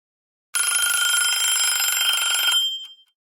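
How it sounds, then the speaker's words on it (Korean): A telephone bell rings continuously and loudly for about two seconds, a bright metallic trill that stops abruptly and is followed by a brief faint tick, with no other sound around it. "며칠째 오지 않았던 전화. 오늘은 정해진 듯한 시간에 다시 울렸다."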